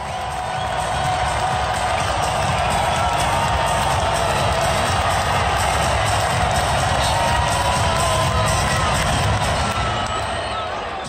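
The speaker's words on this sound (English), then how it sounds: "great crowd there" A large arena crowd at an NBA game between Miami and Dallas, with many Slovenian fans, cheers, claps and whoops in a loud, sustained roar that carries evenly throughout.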